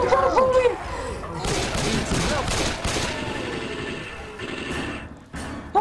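Heavy, continuous gunfire in the co-op zombie shooter Left 4 Dead 2, dense overlapping bursts with crashing impacts filling most of the stretch, loud and close, with voices briefly audible.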